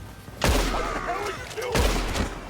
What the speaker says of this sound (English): I'm just gonna shoot him and watch things explode